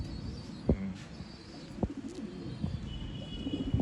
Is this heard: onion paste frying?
no